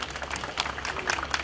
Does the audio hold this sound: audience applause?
yes